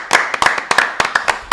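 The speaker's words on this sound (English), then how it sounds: "A big round of applause for Matty." A brief burst of hand clapping for a performer on a live football show, a handful of sharp close claps in quick uneven rhythm from a small group.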